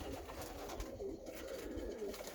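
Racing pigeons coo softly in a pigeon loft, low repeated throaty calls over a faint steady background hum, fairly quiet and close.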